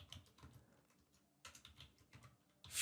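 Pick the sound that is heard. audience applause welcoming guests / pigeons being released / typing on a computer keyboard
typing on a computer keyboard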